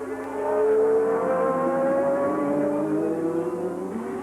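A 1987 Formula 1 car, Gerhard Berger's Ferrari, crossing the line at the Australian Grand Prix, a loud high-pitched engine wail sweeping past with a falling pitch, alone without voices.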